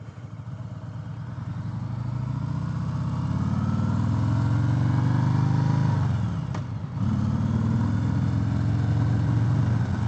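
A 2018 Harley-Davidson Sport Glide rumbles on a test ride, its engine note climbing steadily under acceleration, dipping briefly at a gear change, then pulling again, loud and close throughout with no speech.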